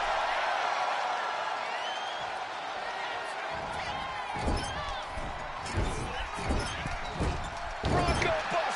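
Arena crowd noise from a WWE 2K25 wrestling match, a steady roar of cheering spectators with sharp slam-like thuds breaking through in the second half.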